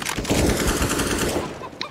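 A short, loud burst of rapid automatic gunfire in Counter-Strike: Global Offensive, close and rattling for about a second before tailing off.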